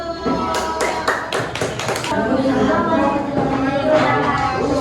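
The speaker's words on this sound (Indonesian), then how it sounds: "teman-teman kita tepuk tangan untuk kelompok 1" A small class group claps for a few seconds, the applause fairly close and lively, with voices mixed in.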